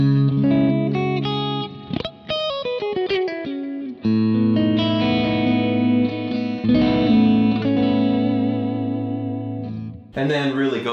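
Electric guitar through a Kemper profiler with a little overdrive, chords and quick picked runs sustaining with mild grit, a couple of brief gaps, and a burst of brighter playing at the very end.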